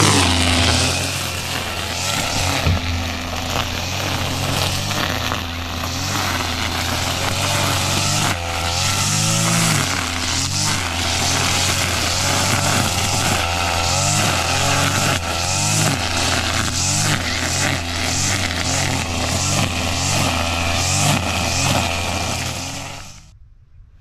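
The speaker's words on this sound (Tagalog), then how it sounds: "natapos din natin yung ano grass cutter dito sa Ampalaya" Engine-powered grass cutter runs steadily and loudly in a bitter gourd patch, a continuous buzzing drone with rises and dips in revs throughout, cutting off abruptly at the end.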